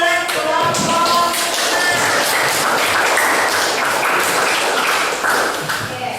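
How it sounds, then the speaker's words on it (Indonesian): A class applauds a group's performance, with steady, dense clapping from many hands that fades near the end, mixed with a few voices. "tepuk tangan untuk penampilan kelompok"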